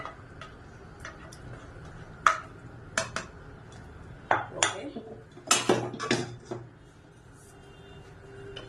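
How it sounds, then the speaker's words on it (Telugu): Urad dal and jaggery payasam thickening in a pot as a spoon stirs it, giving irregular near clinks and scrapes against the metal in loose bursts, some sharp and loud, over a low background hum. "దీంతో మనం వచ్చేసి ఇలా కలుపుతూనే ఉండాలి"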